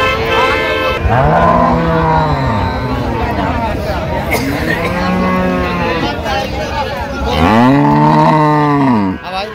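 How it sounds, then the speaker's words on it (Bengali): Improved-breed dairy cows and calves at the Raniganj cattle market in Dinajpur moo loudly and close by in several long, drawn-out calls, one after another, over a background of crowd chatter. "গাভী বাছুর আমরা দেখছিলাম এখানে, সুন্দর"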